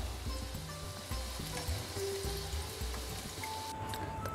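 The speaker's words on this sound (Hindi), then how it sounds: "तो बस इसी तरह से हम कोफ्ते को फ्राई कर लेंगे," Bottle gourd (lauki) kofta balls frying in hot oil, giving a steady, dense sizzle with faint bubbling and no talk.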